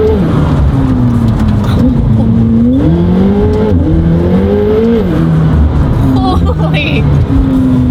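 A supercar engine revs loudly nearby, its pitch climbing and dropping in repeated surges, with people talking over the roar.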